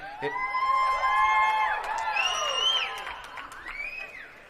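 A crowd cheering and whooping outdoors at a Hollywood Walk of Fame star ceremony for Ewan McGregor, a loud swell of overlapping high shouts that slowly fades.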